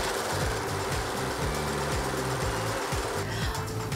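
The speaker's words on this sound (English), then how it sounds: "I'm just gonna use my handy dandy serger over here and just serge the edges so they don't fray at all" A serger runs continuously while overlocking fabric edges, making a loud, fast mechanical whirring with a rapid rhythmic stitching pulse that holds steady throughout, with no speech.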